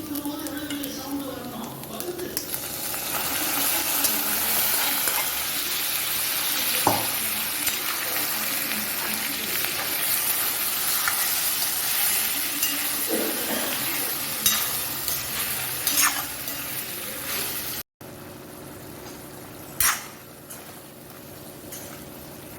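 Mutton boiled with ginger-garlic paste, salt and turmeric is tipped into a hot pan for mutton chukka, producing a steady frying sizzle with occasional utensil knocks and a voice speaking over it.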